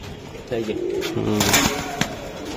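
Giribaz and Pakistani Teddy pigeons coo nearby in a loft, their low throaty rolling calls overlapping in several phrases, with people talking over them.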